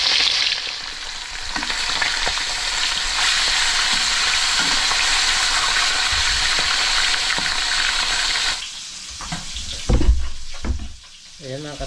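Oil heats and fries in a pan with a loud, continuous crackling sizzle up close, punctuated by scraping stirs, before the sizzle drops away near the end and a few clattering handling sounds follow.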